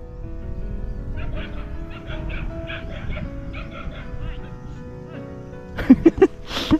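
A dog whines and whimpers in thin, wavering tones over a steady background hum, then breaks into a few loud, close barks near the end.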